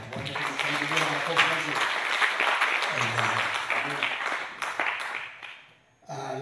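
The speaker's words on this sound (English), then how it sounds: "Let's appreciate him with a good clap." A church congregation applauds warmly, a dense steady clapping that fills most of the stretch, with some voices underneath, then fades before a brief sound at the end.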